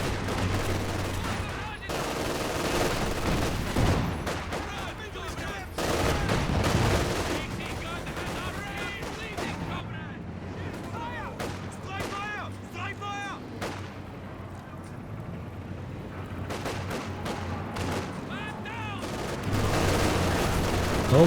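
Rapid artillery blasts, rifle gunfire and machine-gun bursts from a Company of Heroes 2 battle, a dense, continuous barrage of overlapping shots that stays loud throughout, with some speech woven in.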